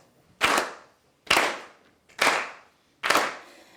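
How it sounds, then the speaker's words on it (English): An audience claps in unison, four sharp, evenly spaced collective claps in a slow steady rhythm, each a crisp burst that fades quickly into near silence. "I need you to clap with me."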